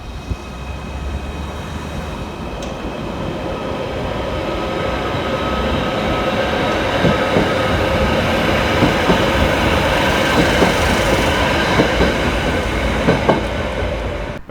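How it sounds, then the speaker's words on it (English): Merseyrail class 777 electric unit 777-144 pulls out of a station, its motor hum and wheel noise swelling steadily and staying loud, with faint rail clicks near the end. "Out next to depart is 777-144, working the 1223 Merseyrail electric service from Liverpool Central through to Headbolt Lane."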